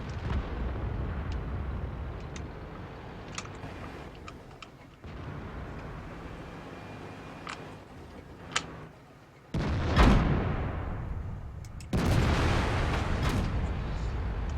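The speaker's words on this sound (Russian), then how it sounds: "Так, 2 выстрела по мне сделали." Tank cannon shots in a World of Tanks-style video game, fired at a Soviet IS-7 heavy tank that ricochets them: two heavy booming impacts around the middle of the clip over steady battle ambience and engine rumble, with sharper ticking transients.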